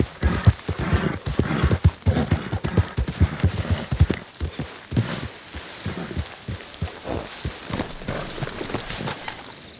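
A horse gallops in Red Dead Redemption 2, close and loud, its rapid rhythmic hoofbeats strongest early and then easing into a lighter, steadier clip-clop over background game ambience.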